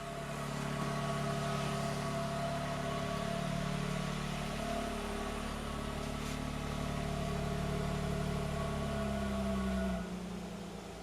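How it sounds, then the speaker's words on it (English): A 2024 Lexus GX550 Overtrail+ V6 idles outside the vehicle, starting with a deeper rumble that then settles into a smoother, steady hum before tapering near the end, with no talking. "I want to listen to that engine note at idle from outside."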